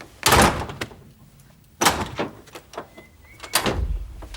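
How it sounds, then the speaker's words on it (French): An apartment door is shut and yanked open sharply by its handle, giving three loud, close bangs with rattling about 1.5 seconds apart and quieter handling noises in between. "Ça vous ennuierait de refermer la porte et de la rouvrir avec un geste un peu sec,"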